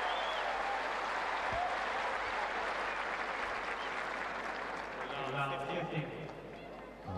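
A tennis crowd at Indian Wells in 2011 bursts into sustained, dense applause that slowly thins toward the end, with a commentator's voice over it.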